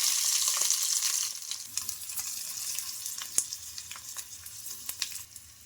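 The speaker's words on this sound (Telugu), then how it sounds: "ఒకటి పెద్ద ఆలూనైతే ఇంకా ఇలా స్మాష్ చేసుకుంటూ ఇందులోకి అయితే వేసుకోవాలి ఇలా" Boiled potato mashed by hand into hot oil tempered with cumin and mustard, giving a steady close sizzle with soft wet squelches and small pops throughout, no talking.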